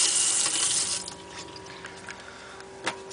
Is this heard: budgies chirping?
no